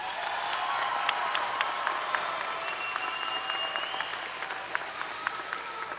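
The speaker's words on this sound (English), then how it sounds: "A round of applause for our faculty, our librarians, and our staff." Audience applause at a 2022 graduate commencement ceremony, a steady wash of many hands clapping throughout with occasional sharper claps and faint whistles above the crowd.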